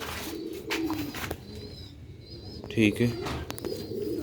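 Pigeons coo in low, soft, repeated bursts near the microphone, with a few chirps and brief sharper calls, while someone speaks intermittently over them.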